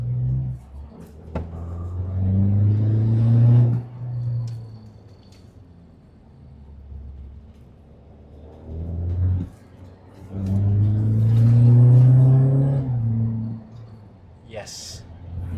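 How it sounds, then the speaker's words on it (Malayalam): A fully modified BMW 525d twin-turbo limited edition with an aftermarket exhaust revs in traffic. Its deep engine drone swells twice, climbing and falling in pitch with each surge, and voices talk over it. "ഉണ്ടെങ്കിൽ നല്ല ലൗഡായിരിക്കും ഇതിൻ്റെ ആ ഒരു എക്സോസ്റ്റ് നോട്ട്."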